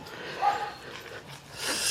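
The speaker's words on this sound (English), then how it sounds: "Dogs are all excited, running around in circles." Excited dogs heading out for a walk, one brief high whimper or yip near the start over faint outdoor rustle and movement, with some scuffling toward the end.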